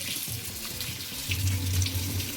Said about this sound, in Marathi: त्याला स्वच्छ धुवून घेऊया आपण 1 ते 2 पाण्याने